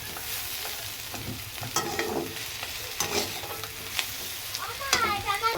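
Spice masala of chilli powder frying in a pan while being stirred, a steady sizzle broken by repeated scraping strokes and a few sharper clinks, close with no talking.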